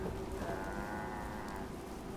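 A cow moos in the game Fallout 4, one long, loud, low lowing call that fills the whole moment, close and alone without talk.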